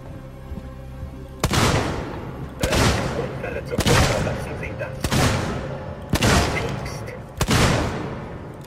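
Gunfire in the survival horror game Alien Isolation during an android assault: six loud, sharp shot bursts spaced about a second apart, each with a booming tail, over a low background hum.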